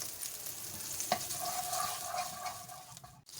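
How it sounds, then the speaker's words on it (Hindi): Salted butter melts and sizzles in a pan with a soft, steady crackling hiss, close and fairly quiet, with a faint scrape near the end. "मक्खन मेल्ट होना शुरू हो गया है।"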